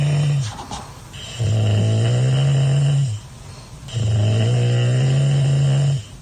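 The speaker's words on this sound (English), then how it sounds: "snoring like this" A man snores loudly in slow, deep rumbling breaths, two long drawn-out snores with a pause between, close and alone.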